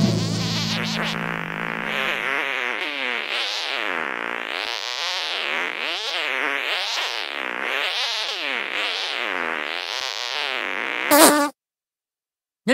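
A fart magic attack in the video game South Park: The Stick of Truth, a long buzzing, warbling fart tone with wobbling pitch lasting about ten seconds, ending in a sharp burst before silence.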